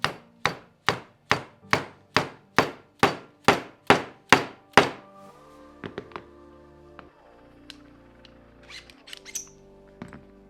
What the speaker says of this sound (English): reinsert the internal spacer, second bearing, and the spacer, and tap gently into place.